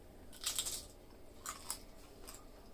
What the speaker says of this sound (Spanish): Mmm, escucho lo crujiente.